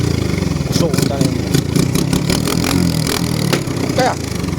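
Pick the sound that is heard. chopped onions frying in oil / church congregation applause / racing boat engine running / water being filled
racing boat engine running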